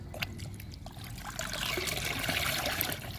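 Liquid trickles and pours steadily while two powders are stirred into a liquid fertilizer for flowering plants, a continuous close-up watery stream that swells slightly partway through.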